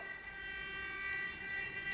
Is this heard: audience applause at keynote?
no